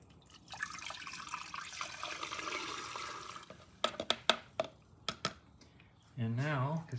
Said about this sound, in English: We're just going to pour some more in here now.